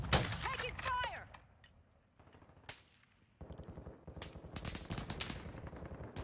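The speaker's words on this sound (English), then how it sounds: "Taking fire." Bursts of automatic gunfire from a shooter video game, loud and close, with rapid rattling volleys separated by short pauses and steadier firing toward the end, amid game effects and faint voices.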